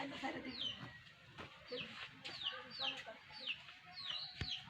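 Hens cluck close by around their chicks at a backyard coop, giving short repeated calls and soft peeps with a few sharp sounds, while a person talks in the background.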